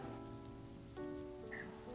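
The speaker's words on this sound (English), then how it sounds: "Heavy wind accompanied by thunderstorm and rain has started." Heavy first monsoon rain falling steadily at home, with a dense continuous wash and a faint tonal hum underneath throughout; no talking.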